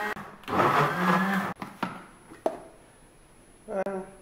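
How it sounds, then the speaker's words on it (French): A blender grinds peanuts, onions and chili with a little water in a loud one-second whirring burst, followed by knocks and handling clatter and a short second pulse at the end. "J'ai là mes arachides, mes oignons et le piment bien écrasés"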